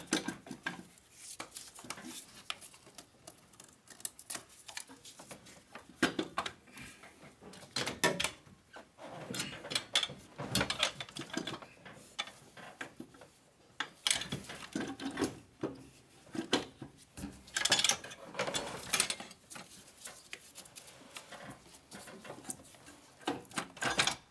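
Turbocharger lifted off a Mercedes Sprinter engine, giving a run of close, irregular metallic clunks, scrapes and knocks as the part is worked free, with no talking.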